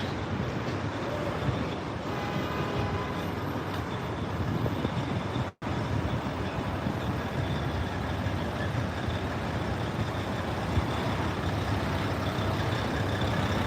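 A large truck idles and rumbles close by on a busy New York City street, a steady broadband engine drone with traffic noise that holds throughout, broken only by one brief dropout.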